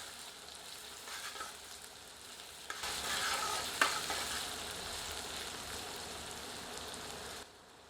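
Onions fry in a pan over medium heat, giving a steady, soft sizzle. The sizzle grows fuller and louder partway through, likely when the onions are stirred, then cuts off. No one speaks.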